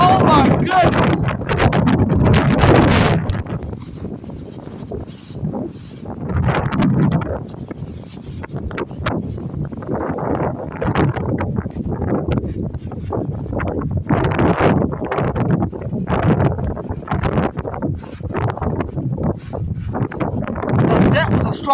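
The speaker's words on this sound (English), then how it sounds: "Now that was a strong gust of wind." Strong gusts of wind buffet the microphone in heavy, uneven bursts of rushing roar that rise and fall throughout, loud and close, with a voice talking at times underneath.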